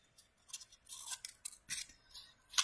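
Scissors snip through a small piece of paper while making little strips for an Easter paper flower and napkin ring craft, a rapid run of crisp, close cuts with no talking.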